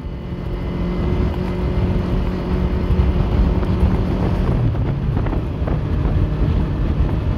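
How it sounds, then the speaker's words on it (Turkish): Strong wind buffets the microphone outdoors in a loud, continuous low roar with gusty swells and no voices. "Rüzgar da olmasaydı biraz daha iyi olacaktı."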